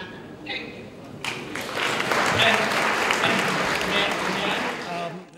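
An audience applauds after a talk on India and Africa development, with sustained, dense clapping that swells and holds steady for several seconds, close and loud, and some voices mixed in beneath it.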